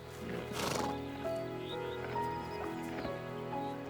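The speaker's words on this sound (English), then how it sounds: "These wild Exmoor ponies have become useful to places like Kielder by carving a niche for themselves as conservationists." Wild Exmoor ponies in forest country give a clear whinny close by, while hooves thud and clop intermittently over a low steady background.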